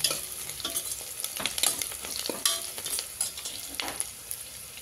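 Onions and green chilli fry in oil in a pan, a constant close sizzle broken by spoon strokes scraping and stirring at an uneven rhythm, with no voices.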